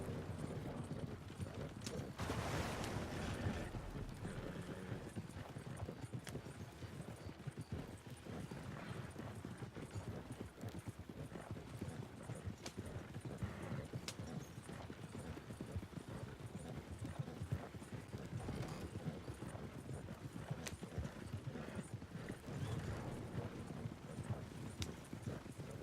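Horse hooves clip-clopping steadily in the video game Red Dead Redemption 2, a continuous close rhythmic trot with occasional faint whinnies, and someone talking intermittently over it.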